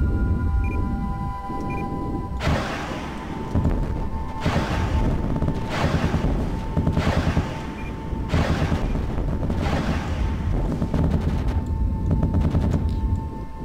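Laser guns fire repeatedly in the vehicle-building game Gimbal, coming as loud bursts of rapid crackling shots in several sustained volleys with brief gaps between them, over a steady tonal hum and with no talk.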